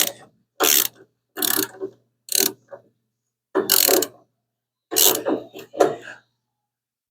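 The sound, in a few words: ratchet chasing threads coated with bed liner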